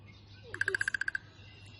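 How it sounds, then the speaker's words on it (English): A downy woodpecker's drumming, played back as a recording, comes as one brief burst of about ten rapid, evenly spaced taps. It sounds moderately loud against a quiet background. "I scrolled and I found the downy woodpecker"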